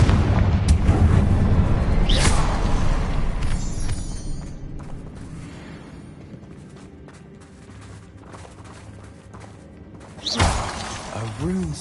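A Confringo fire spell blasting in Hogwarts Legacy, loud crackling bursts over a continuous rumbling game soundscape, with a sharp impact flare near the start and another strong burst near the end; a voice speaks during it.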